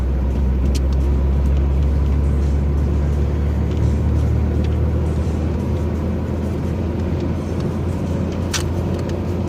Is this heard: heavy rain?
no